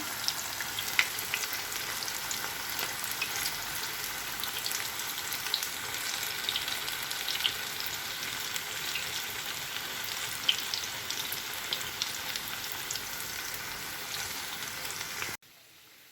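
Pea and banana flower vadai fry in hot oil with a steady, dense sizzle and faint bubbling crackles, constant and close throughout before cutting off abruptly at the end.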